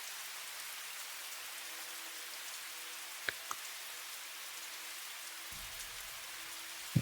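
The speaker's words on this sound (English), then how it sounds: "we are decreasing the sound of the rain ambience" Steady rain ambience playing as a background sound effect in a tabletop Dungeons & Dragons session, a soft continuous patter with a couple of brief clicks and a low hum near the end.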